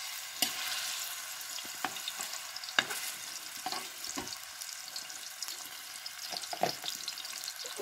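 Fish sizzling and crackling in hot oil in a pan, a steady close frying hiss with occasional sharper pops.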